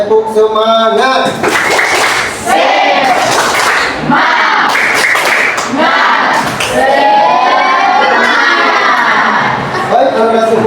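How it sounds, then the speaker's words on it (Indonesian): A classroom audience of students does a loud rhythmic spirit clap together, with bursts of claps mixed with shouted group chanting and children's voices throughout. "Ayo sekarang tepuk semangat."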